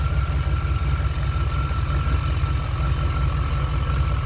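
A truck engine with a throttle body injection problem idles steadily and loudly, its low rumble pulsing in an even rhythm with a faint whine above, alone without talk.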